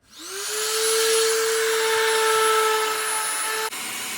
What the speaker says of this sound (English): I'm just gonna be hitting it with my palm sander here with 220 grit sandpaper